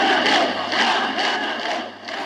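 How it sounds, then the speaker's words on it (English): A huge crowd of mourners at the funeral of poet George Seferis chants "Athanatos" in loud, rhythmic unison, with swelling waves of massed voices outdoors and no single speaker standing out. "The crowd is shouting Athanatos, or immortal, in reference to the poet standing."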